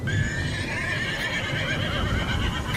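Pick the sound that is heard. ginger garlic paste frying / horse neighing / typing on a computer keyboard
horse neighing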